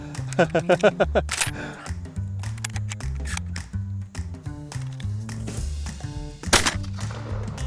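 A smoothbore shotgun fires at a drone flying over 100 metres up, with loud sharp blasts near the start and again later, among clicks, handling noise and people talking.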